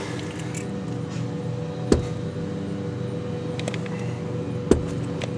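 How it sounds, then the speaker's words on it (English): Seat being reclined inside a 2000 Buick Century, two sharp mechanical clicks spaced a few seconds apart over a quiet cabin hum, with faint rustling between them. "Let me just recline the seat."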